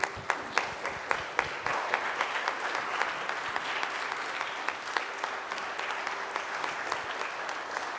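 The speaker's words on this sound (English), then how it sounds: "Let's all stand up and give a big round of applause to our panelists and our moderator." A conference audience at a career expo stands and applauds its panelists and moderator, a dense sustained round of clapping with a few sharp louder claps standing out near the front.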